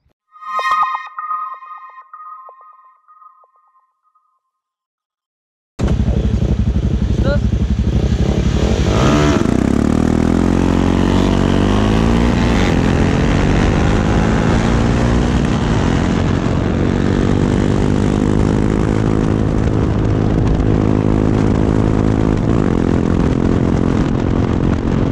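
Modified and stock Bajaj Pulsar NS200 motorcycle engines roar loudly and continuously, revving up with rising pitch as they accelerate, preceded by a brief burst of sound and silence.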